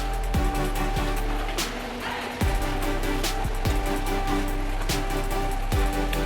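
Dense, loud rainfall pours steadily, with occasional heavier splashes and thumps against a surface nearby; no voices.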